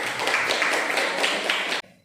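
A classroom audience claps steadily for the winning student group, a dense close burst of many hands that runs evenly for nearly two seconds and then stops abruptly.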